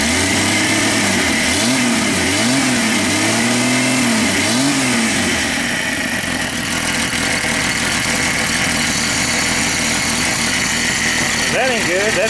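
Jeep 4.0 engine running rough, revved several times in rising and falling surges before settling into an uneven, loud idle close by, with someone talking over it.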